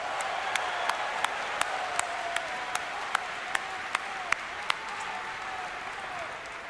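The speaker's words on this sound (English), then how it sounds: "Please give yourselves a round of applause." Steady applause from a large crowd at the BlizzCon 2011 opening ceremony fills the space, even and sustained, with occasional sharper claps standing out.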